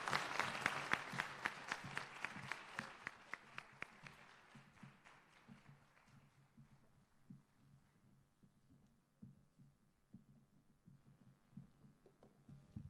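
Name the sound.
audience applause for the UNDP Jamaica office team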